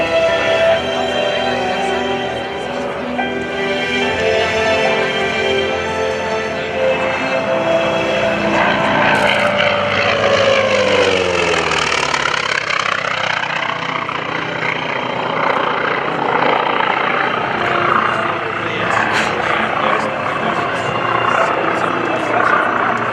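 A Grumman F4F Wildcat warbird makes a low pass at the 2014 Rhode Island ANG Open House airshow, its loud radial-propeller drone holding steady, then sweeping down in pitch as it flies by.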